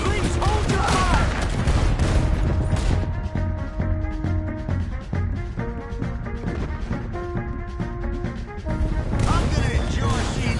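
Dense volleys of gunfire from a Red Dead Redemption 2 shootout crackle and boom nearly nonstop, many rapid shots layered over tense background music and game sound.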